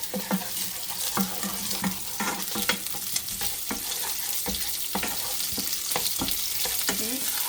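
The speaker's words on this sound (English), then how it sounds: "So I want the ginger and garlic to cook through with the onions." Onions cooking in a pan with ginger garlic paste, a steady frying sizzle broken by repeated stirring scrapes at an uneven rhythm, close and moderately loud with no talking.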